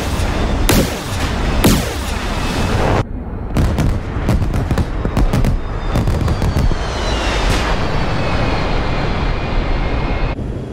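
Starfighter cannons fire in rapid bursts and explosions boom during a DCS Star Wars combat game, with dense, loud blasts and crackling volleys, some aircraft-like whooshing and fading tones between them, no talk.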